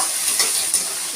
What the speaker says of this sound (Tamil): எண்ணெயிலே வேகணும், இது கூடவே வேகணும்.